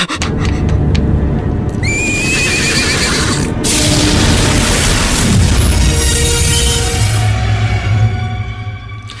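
Horse neighing effect for a tikbalang, a horse-headed creature in a horror radio drama: loud, close whinnies over booming rumbles and hoofbeats, with a dramatic surge in the middle.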